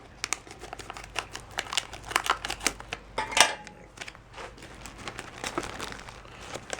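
Scissors snip across the top of a plastic dry baking mix bag, giving quiet, close crinkling and clipping in quick bursts with no talk.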